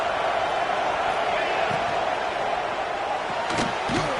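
Football stadium crowd roaring steadily as fans urge their defense to make a stop near the goal line, a dense continuous wall of cheering and yelling with a few sharper shouts rising near the end.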